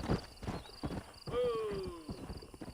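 Horse hooves clip-clop in Red Dead Redemption at an irregular, quick pace, with a voice talking over them and a whinny-like tone sweeping through the middle.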